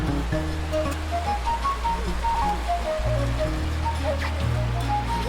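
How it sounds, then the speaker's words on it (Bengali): Rain-swollen hill stream at Turung Chora near Sylhet rushing over rocks, a continuous broad watery roar heard under a loud background melody of sustained tones. "এখানে বৃষ্টি হওয়ার কারণে পানির স্রোত কিন্তু বেড়ে গেছে।"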